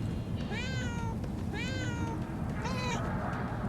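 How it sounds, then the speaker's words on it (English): Three distinct cat meows in a row in the video game Murdered: Soul Suspect, evenly spaced and close, each rising then falling, over a low constant background hum. "I can meow!"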